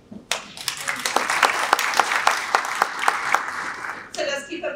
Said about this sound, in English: Just keep applauding.